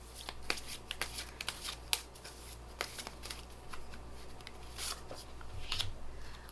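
Tarot cards shuffled by hand, giving a steady run of soft riffling and sharp card snaps, fairly quiet and close, with no talking.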